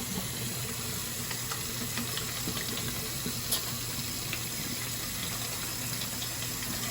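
A sink tap runs continuously while hands are lathered with soap, a steady close hiss of flowing water with faint splashes and no speech.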